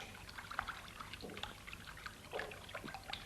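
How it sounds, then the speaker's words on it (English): Water splashed from a log, a series of light wet splashes and trickles with irregular bursts, fairly close and soft, with no voices. "And he splashed himself with water from the log."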